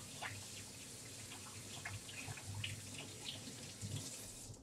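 Tap water running steadily into a sink while hands are washed, a continuous close splashing flow with small shifts in tone as the hands move through the stream.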